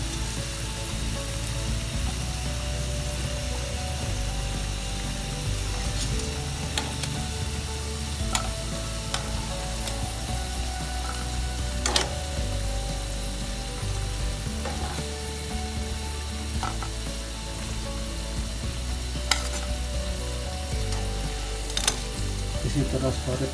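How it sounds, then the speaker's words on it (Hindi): Kadhi pakoras frying in hot oil, a continuous dense sizzle and crackle with occasional sharp clicks from stirring or turning, steady and close throughout. "ये साइड भी अच्छी तरह फ्राई करेंगे और फ्राई करने के बाद इनको बाहर निकालेंगे।"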